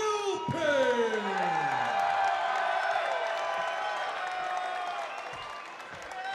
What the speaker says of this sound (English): Thundering ovation from the crowd here